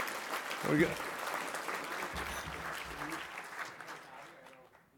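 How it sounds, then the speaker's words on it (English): Guests at an annual forecast dinner give a round of applause, mixed with cheers and chatter from the crowd, starting strong and fading away over several seconds. "A big round of applause to all of you for a wonderful time."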